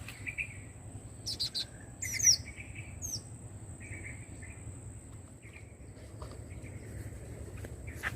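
Many small birds chirp at a bird-trapping spot in a village, with scattered short high tweets and calls over a steady insect or cricket drone, fairly faint and outdoors.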